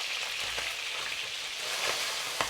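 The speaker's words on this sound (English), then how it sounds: "We'll fry this for about a minute or so. Move them around just to prevent them from burning." Sliced ginger frying in oil in a wok for braised chicken wings, making a steady hiss with soft scrapes as the slices are pushed around, close and moderately loud, with no speech.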